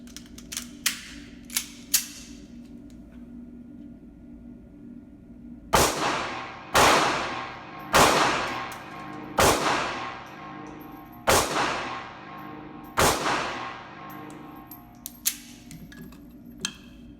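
A Ruger LCP 2 .380 pistol fires Federal Hydra-Shok rounds outdoors: six sharp, loud reports spaced roughly a second or more apart, each with a brief ringing decay, preceded by faint handling clicks.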